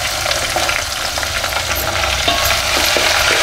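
Chopped onion and green chili sauté in a hot pan for Maharashtrian masale bhat, a steady loud sizzle with repeated scraping stir strokes throughout.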